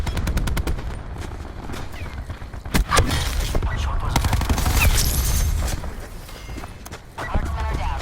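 Rapid gunfire from sniper shooters deployed in a video game crackles in sharp bursts and scattered single shots. A game announcer voice talks over the shooting throughout.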